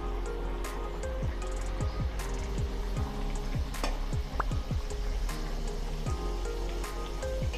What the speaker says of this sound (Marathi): अलगद हाताने आपण वडा तेलामध्ये सोडून घेऊया